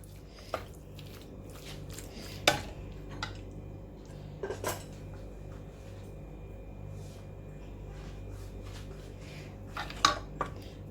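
A spoon clinks and scrapes against a metal pot while coconut milk is stirred into a potato stew, with a few sharp, close knocks against a quiet background.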